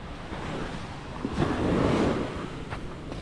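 Ocean waves wash along the seashore in a broad, steady hiss that swells into one fuller surge near the middle, with some wind rush mixed in and no voices.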